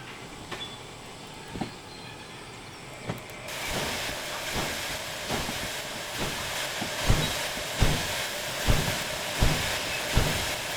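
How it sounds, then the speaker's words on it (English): An S060 steam locomotive in the Derail Valley game vents steam with a steady, loud hiss that swells after a few seconds, punctuated by rhythmic rail clanks and thumps from the moving train, with no talking. "We're spitting, spewing steam."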